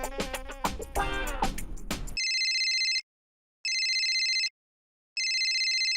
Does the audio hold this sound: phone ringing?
yes